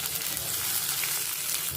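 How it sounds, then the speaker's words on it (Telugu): Chopped green chillies fry in a tablespoon of oil, a short, even, close sizzle heard alone without talk. "ఇవి బాగా వేగాలి."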